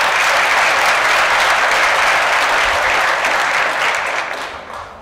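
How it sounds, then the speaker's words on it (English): Dense, loud applause and cheering from an audience at a company celebration, sustained for several seconds before tapering off slightly at the end. "Let's make some noise for these folks."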